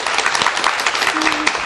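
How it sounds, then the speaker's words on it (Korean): A studio audience applauds to welcome a guest pastor onto a Korean Christian talk show, with dense, steady clapping throughout. A voice can be heard faintly beneath the applause. "박수로 맞이해 주시죠."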